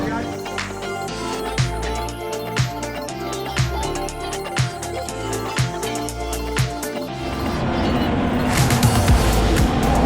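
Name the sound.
Formula 1 race cars passing by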